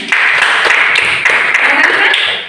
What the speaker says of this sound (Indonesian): Tepuk tangan untuk Anak Salim.